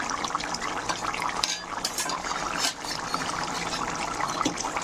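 Soaked bhola fish slipping into simmering curry broth with potato and cauliflower: a steady, close wash of trickling, bubbling liquid that shifts slightly as the pieces go in, with no voices.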